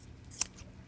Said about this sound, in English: I'm just coming in with some scissors